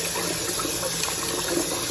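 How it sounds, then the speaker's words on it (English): A kitchen tap runs steadily into a sink while kapoon is being made, a continuous close gush of water with no talk. "Have the water run for a bit."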